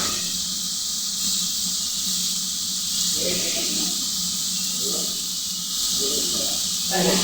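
Dried fish, onion and garlic fry in a pan with a steady hissing sizzle that swells and fades in waves, while a voice talks over it at times.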